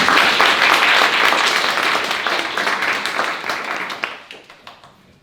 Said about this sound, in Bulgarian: искам едни аплодисменти за Шери, която ми помогна с презентацията